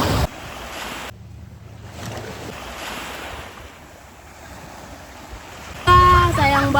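Ocean surf washes steadily at Gaseng Beach, a broad rushing roar with wind buffeting the microphone, before a louder burst of tonal noise cuts in near the end.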